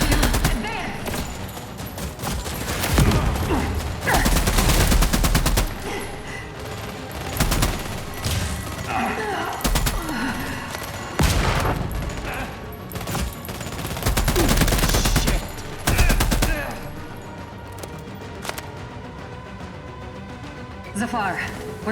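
Sustained gunfire erupts in The Expanse: Osiris Reborn, rapid bursts and volleys of automatic fire coming in loud waves, with voices calling out over the shooting.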